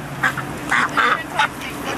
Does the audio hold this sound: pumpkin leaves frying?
no